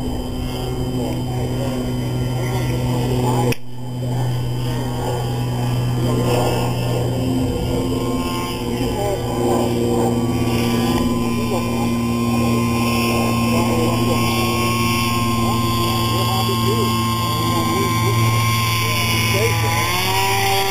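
The engine of a Big Stik RC model airplane stays stuck at high throttle, a steady loud droning whine that holds its pitch throughout, with people talking over it.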